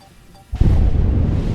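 A sudden deep boom from a drone strike on a tank bursts in after a quiet stretch, followed by a sustained low rumbling roar that stays loud until the end.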